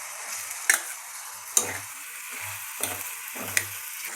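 Ridge gourd and tomato pieces fry in a pan over medium flame, giving a soft steady sizzle broken by a few sharp ticks and light knocks of stirring, quiet and close.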